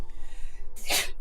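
A single sharp sneeze bursts out close by, loud and breathy, after a moment of quiet room noise.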